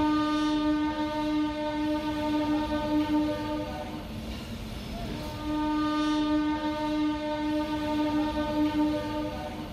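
A train passes a railway level crossing on the Andal–Sainthia line near Suri, sounding long, loud horn blasts with a short break between them over a steady rumble.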